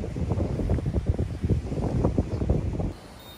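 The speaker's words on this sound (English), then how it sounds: "it's just got dead windy" Strong gusty wind on a farm buffeting the microphone, a low rumbling roar that swells and dips continuously, then eases slightly near the end.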